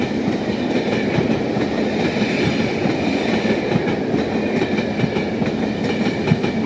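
The Britannia Pacific steam locomotive passes along a railway line in Devon, a sustained rumble with rhythmic clickety-clack of wheels over rail joints, steady and fairly loud throughout.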